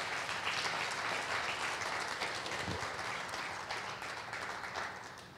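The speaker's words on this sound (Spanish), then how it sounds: "¿Se anima a darle un fuerte aplauso al Rey de Reyes y Señor de Señores?" A church congregation applauds at a Sunday service, sustained, full clapping from many people that tapers slightly toward the end.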